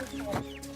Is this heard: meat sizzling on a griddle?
no